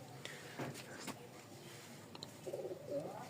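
Domestic pigeons kept with their newly hatched chicks give soft, low cooing calls near the end, faint and close, over quiet room noise with a few light knocks and faint voices.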